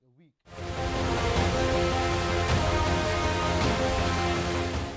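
Heavy monsoon rain pours down in Cherrapunji, a dense, steady hiss that kicks in after a brief quiet moment with a faint voice, then holds loud and unbroken to the end.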